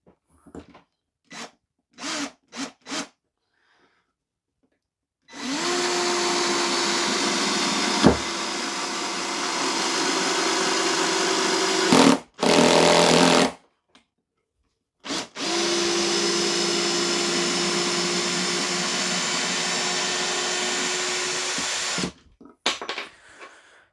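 An Evolution R13CMB 18V combi drill on setting 1 drives a screw in two long, loud whirring runs of several seconds each, separated by a short burst and some clicks. Brief knocks come before and after the runs.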